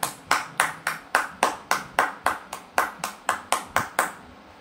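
An audience claps loudly in unison at an indoor business event, about fourteen crisp, evenly spaced claps in a steady rhythm before stopping abruptly.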